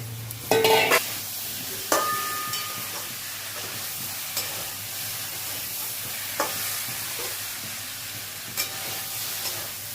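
Jackfruit biryani masala with potato being stirred and sautéed in a little oil in a pan: a steady low sizzle with scraping spatula strokes, a few sharper clanks near the start, alone and fairly quiet.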